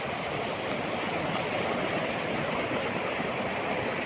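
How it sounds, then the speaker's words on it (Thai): Water spills over a weir as a waterfall, churning into white foam, heard as a steady, loud, broadband roar of rushing water without a break. "น้ำล้นจนเป็นฟองขาวฟอดเลยนะคะพี่น้อง"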